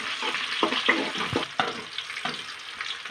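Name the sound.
spices and onions frying in oil for fish curry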